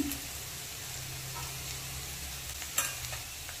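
Crushed garlic and a split dried red chili frying in hot oil in a pan, giving a low, steady sizzle with light stirring scrapes and one sharp clink near the end, with no voices.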